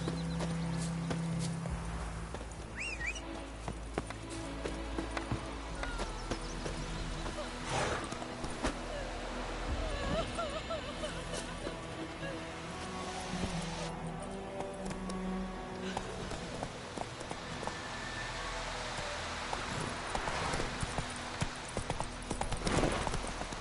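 Rhythmic hoofbeats of the horse Roach clop steadily throughout a PS4 video game, with a continuous trotting-to-galloping patter under game music and intermittent talking.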